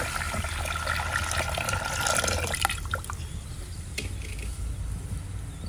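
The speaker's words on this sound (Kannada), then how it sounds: "ಇದಕ್ಕೆ ನಾನು ಇವಾಗ ಸ್ವಲ್ಪ ನೀರನ್ನು ಹಾಕ್ಕೊಳ್ತೀನಿ" Water is poured into a clay pot to boil colocasia, a steady splashing pour that stops after a few seconds, followed by quieter handling noises and a faint drip or knock.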